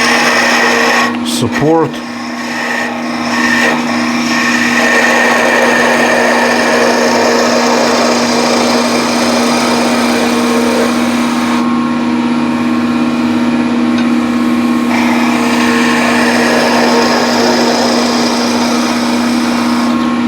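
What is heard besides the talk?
wood lathe turning a ladle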